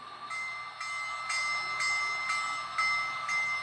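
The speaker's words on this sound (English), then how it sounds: "Alright, so bell." A steady, evenly paced clanging locomotive bell rings about seven times, each strike ringing over a faint hiss.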